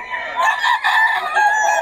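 A rooster crows nearby at a market in Bocaue, Philippines, a loud drawn-out call with a couple of strained breaks, standing alone without talk.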